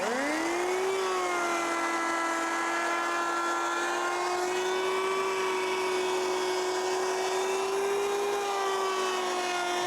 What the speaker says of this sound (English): 12 and a 1/8 inch planer. It's got a rotating blade on the bottom, and it's a great tool.